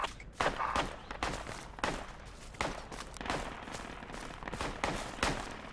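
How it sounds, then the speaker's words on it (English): Sharp bursts of gunfire from someone shooting toward the players in a forest combat game, about ten cracks spread irregularly, moderately near, with no talk over them. "there's a guy there shooting us"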